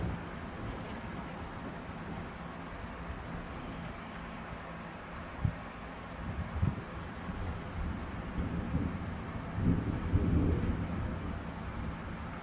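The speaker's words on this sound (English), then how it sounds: "Listen to that thunder." Distant thunder rumbles low and faint outdoors during a spring session of pruning a ficus bonsai, with a few soft thuds and a swelling roll near the end over steady wind and ambient hiss.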